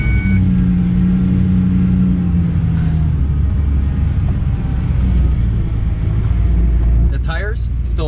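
A 1983 Ford Bronco XLT stuck in third gear rumbles along with a low, steady engine drone and road noise, close and fairly loud, with a person talking over it.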